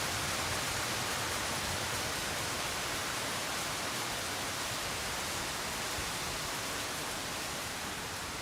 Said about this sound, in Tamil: ஒன்று மழை பெய்யுது, அப்படி பெய்யுது,